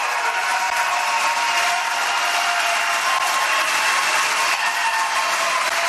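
Sustained audience applause closing a GOP presidential primary debate, a steady dense wash of clapping and crowd noise that stays loud and even throughout with no pauses.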